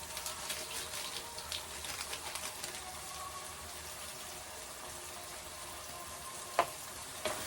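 Onions and fennel seeds frying in a pan give a steady, soft sizzle with faint crackles and a couple of light utensil taps near the end, no voices.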